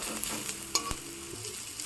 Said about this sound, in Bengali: আমি এখন এই পেঁয়াজ ভাজাটার মধ্যে অল্প লবণ দিয়ে দিচ্ছি, দিয়ে আরও ভালো করে ভাজতে হবে